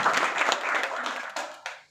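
A crowd of devotees claps hands at a Bhagavat katha gathering, a dense, steady patter of applause that continues evenly and then thins toward the end.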